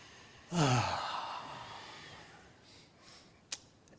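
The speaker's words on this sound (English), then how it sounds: "So now take a little deeper breath." A single deep breath during a guided meditation in a quiet congregation hall: one soft, airy sigh-like breath up close, then near silence with a faint click.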